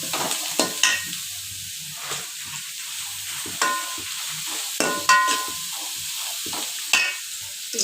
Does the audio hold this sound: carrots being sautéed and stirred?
yes